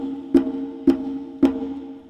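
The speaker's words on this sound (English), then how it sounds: "You have the open tone" Conga drum struck three times with open tones, evenly spaced, each a clear ringing pitched note that decays quickly, close and alone.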